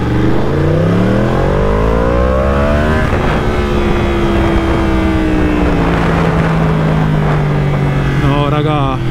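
A Yamaha R1 motorcycle engine revs hard, climbing and falling in pitch as the throttle opens and eases off, loud and close, with a voice talking over it.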